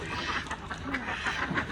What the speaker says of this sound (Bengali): এখানেই থাকে দিন ভরা হাঁস।